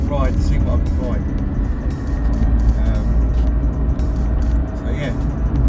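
A Ford Fiesta Mk2 hatchback drives along the road, its steady engine and tyre rumble filling the cabin at constant loudness, with a voice talking faintly over it.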